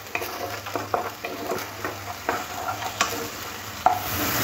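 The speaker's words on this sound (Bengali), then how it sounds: "মশলাটা খুব ভালো করে কষে দিতে হবে, যাতে টমেটোর কাঁচা গন্ধটা চলে যায়" Spiced masala and tomato being stir-fried in a pan, with a steady sizzle and repeated scraping stir strokes at a moderate level, no voices.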